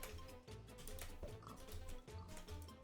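A pig in Minecraft, on the Hypixel arcade games server, gives a run of short, repeated grunting oinks over a busy background of game sounds, at a moderate level.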